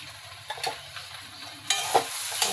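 Butter melting in a hot pan for chirer polao (flattened rice pulao), a soft, steady hiss that swells louder halfway through, broken by light clicks of a spoon against the pan, with no voices.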